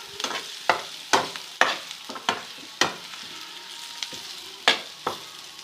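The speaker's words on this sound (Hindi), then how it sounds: "इसका मतलब ये है कि भून रहा है हमारा बेसन" Gram flour roasting with green chillies in a pan, a low steady sizzle broken by sharp spatula scrapes and taps roughly every half second, close and fairly loud.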